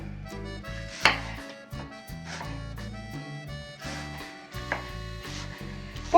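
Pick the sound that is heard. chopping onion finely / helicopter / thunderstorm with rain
chopping onion finely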